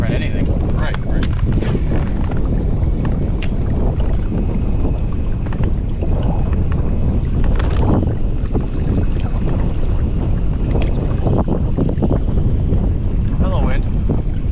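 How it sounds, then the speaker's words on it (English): Strong wind buffets the microphone on a bass fishing boat on a large Ohio lake, a loud continuous low roar with gusts. People talk over the noise. "Hello, wind."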